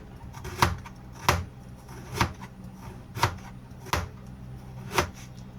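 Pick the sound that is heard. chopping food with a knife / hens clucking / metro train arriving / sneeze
chopping food with a knife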